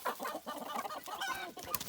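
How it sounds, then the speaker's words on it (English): A guinea fowl on a farm with hens and ducks calls out, a loud, harsh, rapid chattering series of squawks, close by and continuous with no one talking. "Oh, that's a guinea fowl."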